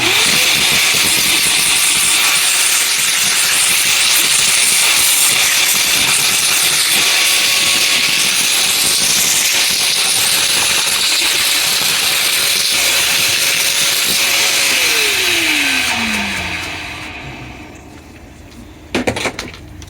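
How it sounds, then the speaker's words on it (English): A vacuum cleaner cleaning car floor mats runs with a loud steady whine and airy hiss, then powers down with a falling pitch, followed by a couple of clunks. "give them a quick vacuum, get all the loose dirt up"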